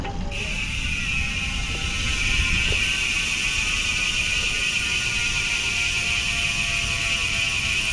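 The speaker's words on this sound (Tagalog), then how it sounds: "yan yung tunog ng Speed 1 Soldier MTB hubs kapag naka free wheel" Rapid, even clicking of a Speed 1 Soldier mountain bike hub freewheeling, with a steady whir underneath, continuous and close-up, no voices.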